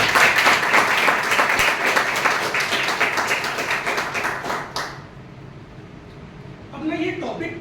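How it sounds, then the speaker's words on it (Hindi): A room of training participants gives a president a round of applause, dense clapping that holds for about five seconds and then stops abruptly, followed by quiet room noise and a voice starting to talk. "उनके लिए एक बार ताली हो।"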